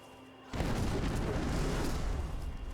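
A video game explosion erupts as a sudden loud roar that holds as a dense, rumbling blast for over two seconds, alone with no talk.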